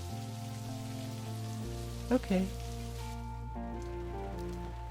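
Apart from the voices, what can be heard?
rain falling, from the video game Necrobarista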